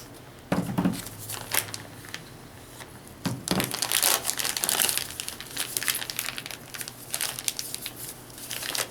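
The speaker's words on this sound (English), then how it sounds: "we're just going to take this mixture that we made and scrape it into our bag." A chocolate cherry mixture being scraped into a disposable plastic decorating bag, heard as crinkling and rustling of plastic in irregular bursts with short scraping strokes, close and fairly loud.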